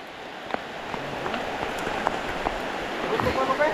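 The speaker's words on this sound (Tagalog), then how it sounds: "malakas yung ulan mga idol" Heavy rain pours steadily onto surfaces beside a flooded creek, a dense close hiss with scattered drop impacts, while someone talks over it.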